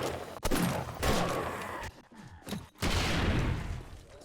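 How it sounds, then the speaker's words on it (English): A grenade blast in the video game 7 Days To Die, heard as a loud booming burst followed by several more heavy thuds and a sustained rumbling roar, all without talk. "One grenade."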